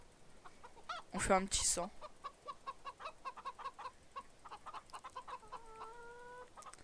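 Chickens and a rooster in the Farming Simulator 2013 video game cluck in a quick, repeated rhythm, joined by a brief louder squawk near the start and soft game tones later, with someone speaking French quietly.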